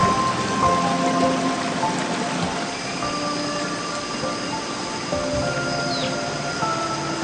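Heavy rain pours down near a hanging bridge over the swollen Kapay River, a steady dense hiss with no break across the whole stretch and faint tonal background noise mixed in.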